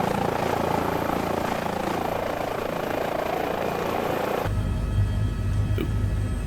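A helicopter in a flight simulator hovers and nears a helipad, giving a continuous, close rotor and turbine drone that shifts to a lower, thinner hum partway through.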